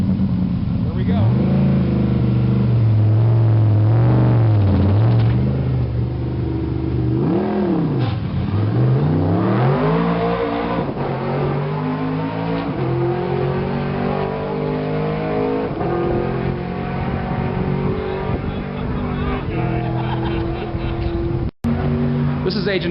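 A 2008 Cadillac CTS race car at Laguna Seca Racetrack starts and revs hard, its engine note rising and falling in loud sweeps before settling into a high sustained whine, with people talking over it.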